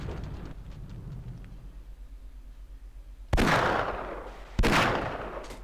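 Two heavy booming gunshots, a few seconds apart, fired at a monster in the video game Half-Life, each with a long rumbling decay, over a low steady background rumble.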